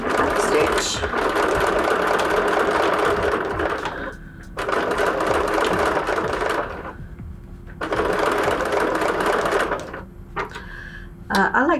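A sewing machine runs a back stitch on a fabric tote bag, a Kawandi-inspired Grace tote, whirring loudly in three long steady bursts separated by short pauses.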